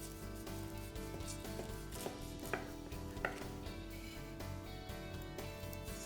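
A sharp knife slicing homemade doner kebab meat into thin pieces, soft repeated cuts and taps on a board at an uneven pace, close and quiet, over a steady background hum.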